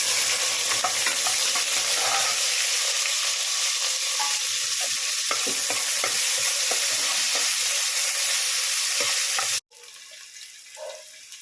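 Cinnamon, cloves, bay leaf, fennel, cardamom, onion and green chilli hit hot oil and sizzle loudly and steadily, with scraping stirs and clinks throughout. The sizzle drops abruptly near the end, leaving a quieter background.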